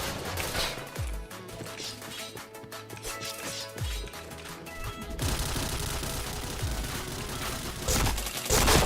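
Rapid bursts of gunfire fill an online match of the shooter game Point Blank, with dense crackling volleys and sharp impacts layered over busy game effects, growing louder toward the end.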